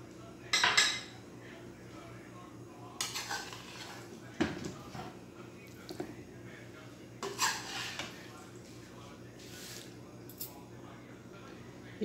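Rice and chicken being spooned in layers into a pot for a fried tikka biryani, with scattered metal clinks of a spoon against the pot and a few scraping taps spread across a quiet kitchen, no talking.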